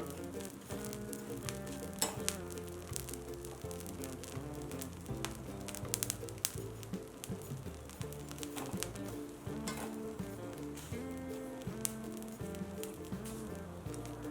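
Sandige fryums dry-fry in hot salt in a pan without oil, giving a continuous crackling sizzle with rhythmic scraping and stirring, steady and moderately close, with no talk.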